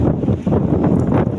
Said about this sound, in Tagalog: masyado pong lumakas pa yung hanging amihan dito sa amin, easterly wind